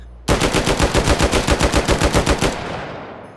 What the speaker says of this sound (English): a fairly slow cyclic rate, very controllable full auto